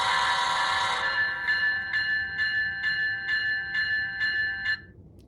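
A GE locomotive horn on a model train sounds a loud, steady multi-tone chord, first as one full blast, then as a series of rapid repeated pulses before stopping abruptly near the end.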